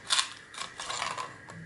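A part being snipped off the circuit board of a Sanyo projector: a few short, close mechanical clicks and crunches of the cutter working through the board's metal, quiet and without talk.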